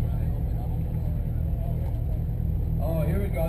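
A 700-horsepower 1998 Toyota Supra and a 750-horsepower Supra on a half-mile drag strip, a steady, loud engine roar that holds through the run, with a brief higher rising shift sound near the end as the car goes through the gears.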